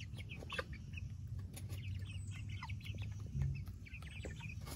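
Chickens cluck and chatter in short bursts close by while feeding on scrap food, a steady low rumble underneath and scattered pecking noises throughout.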